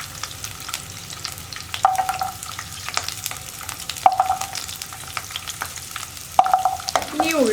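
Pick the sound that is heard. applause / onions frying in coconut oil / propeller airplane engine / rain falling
onions frying in coconut oil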